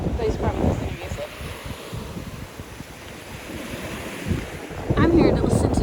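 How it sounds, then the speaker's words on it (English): Ocean waves wash onto a Sanibel beach in a continuous, hissing surf with wind buffeting the microphone, and a louder wave surges in near the end. "I'm here to listen to the beautiful ocean."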